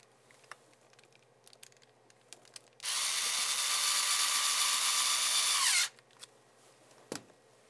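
Electric screwdriver driving a screw into a camera adapter, one steady whirring burst of about three seconds between faint handling clicks.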